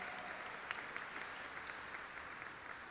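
A crowd at a solemn session for the Day of Black Latin American and Caribbean Women claps steadily, with dense, even applause at a moderate distance and no speech on top.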